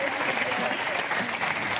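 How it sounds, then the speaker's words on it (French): Steady applause from a French TV studio audience, a dense wash of clapping that continues evenly for a couple of seconds. "on peut l'applaudir très fort"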